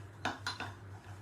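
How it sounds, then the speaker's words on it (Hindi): Melted chocolate and cream being mixed in a bowl, a few quick clinks and scrapes of a utensil against the dish, soft and close, over a low background hum. "तो चॉकलेट एंड क्रीम को आप मिक्स कर रहे हैं"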